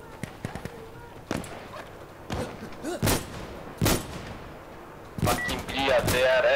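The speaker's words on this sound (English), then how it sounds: "those sniper rifles sound meaty as hell" Heavy sniper rifle shots ring out in a tactical shooter video game, several loud sharp cracks spaced a few seconds apart over background game noise, with someone talking between them.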